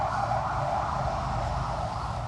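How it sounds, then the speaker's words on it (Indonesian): An ambulance siren passes by outside during an indoor talk about choosing wedding vendors, a steady, moderately distant wail over a constant background rumble, with no voices. "Sebentar, ambulan lewat."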